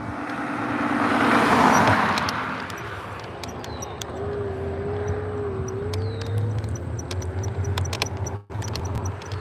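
A car rolls past on a residential street in a Beavercreek neighborhood, a broad whoosh swelling and fading in the first few seconds, followed by a steady engine hum and road noise from a vehicle interior.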